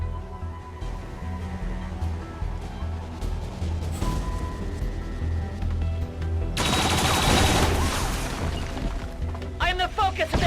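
Combat in the tactical strategy game XCOM 2: a dense burst of gunfire erupts partway through over a steady low soundtrack drone, and a voice speaks just after.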